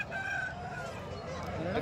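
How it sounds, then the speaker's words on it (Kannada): A rooster, one of the birds offered at a poultry market during the Sankranti festival, crows in a long drawn call over busy market noise, with clucking and faint voices nearby. "ಬನ್ನಿ ಇಲ್ಲೊಂದು ಹುಂಜ ಇದೆ"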